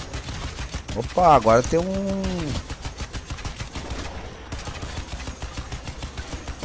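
Automatic gunfire in Crysis 2 that keeps going until the ammo runs dry, heard as a dense clatter of shots under excited Portuguese talk, with a swooping synthetic effect partway through.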